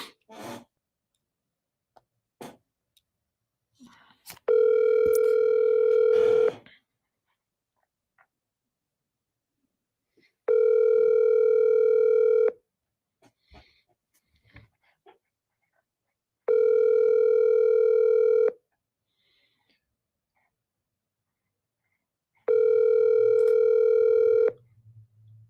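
Outgoing phone call ringback: four long, steady electronic ring tones a few seconds apart with near silence between, clear and fairly loud, no voices.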